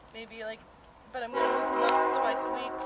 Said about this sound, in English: That was a train.